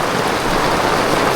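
Rain pours steadily in a brief, even wash of hissing noise with no other sounds.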